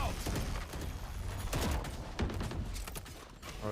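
Rapid bursts of gunfire trade back and forth during a Valorant esports match between Gods Reign and Medal Esports, a dense continuous volley of shots with sharp louder cracks throughout and a faint voice underneath.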